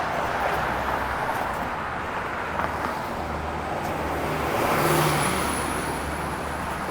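A Toronto 13 Avenue Road city bus passes in dense street traffic, its engine rumble swelling and fading amid the steady roar of cars along the roadway.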